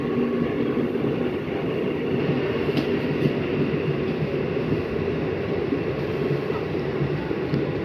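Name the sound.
trains passing at a railway station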